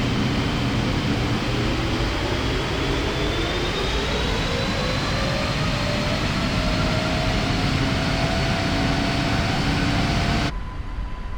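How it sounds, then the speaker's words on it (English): Twin GE90 jet engines on a Boeing 777 in Microsoft Flight Simulator spool up steadily, a broad roar with rising whine tones climbing over about ten seconds before cutting off abruptly. "I just love the sounds of those G90s firing up."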